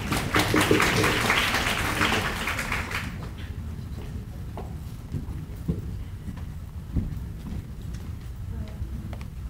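An audience at a working holiday information session applauds to welcome a speaker, a loud dense burst of clapping that fades after about three seconds into quiet room noise.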